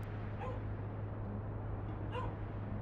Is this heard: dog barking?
yes